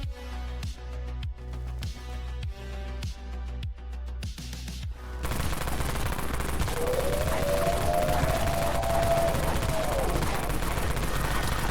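Dawn AR assault rifle in Dead Frontier firing a rapid, steady stream of sharp rounds for about five seconds, then a denser, continuous roar of weapon noise with a whining tone rising over it.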